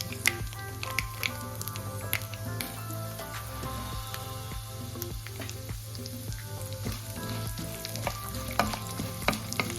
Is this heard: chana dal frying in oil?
yes